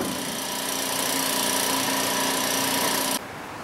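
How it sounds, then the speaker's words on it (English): A loud, steady magnetic drill hum with a constant whining tone runs for about three seconds while set up for drilling motor mount holes on a Hyster forklift, then drops to a lower background drone. "I got the mag drill set up for drilling the motor mount holes"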